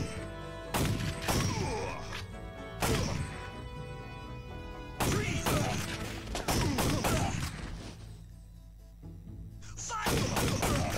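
Gunfire in the arcade shooter Time Crisis, bursts of loud, sharp shots and impacts in clusters with brief quieter gaps, under game music and effects.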